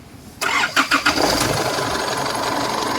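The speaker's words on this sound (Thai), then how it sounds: "รับชมตอนติดเครื่องยนต์ต่อนะครับ" A 2005 Isuzu D-Max Hi-Lander 3.0 diesel pickup engine, stock and unmodified, cranks a few times, fires up, and settles into a loud, rough, steady idle close by.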